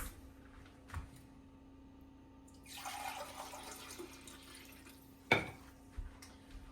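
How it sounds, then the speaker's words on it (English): Warm water pours into a pot of rice for Guyanese shine rice, a steady splashing stream lasting a couple of seconds, framed by a few dull knocks of the pot nearby. "Let me add some water first."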